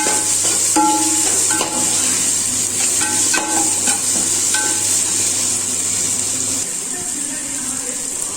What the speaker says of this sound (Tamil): ரெண்டு தக்காளி தக்காளி போட்டு நல்லா ஃப்ரை பண்ணிக்கணும்